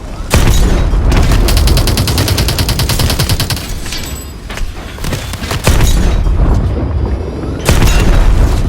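Loud close gunfire and explosions in a Call of Duty Advanced Warfare campaign battle against a tank: rapid automatic bursts, single heavy shots and booming blasts layered densely without a break.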